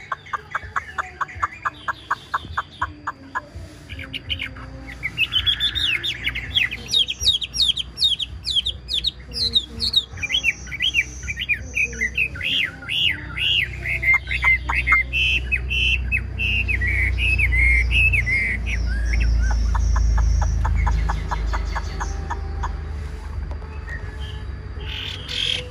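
Caged white-rumped shama birds chirp and trill in quick repeated bursts, with a rooster-like clucking mixed in, close by, over a low rumbling background.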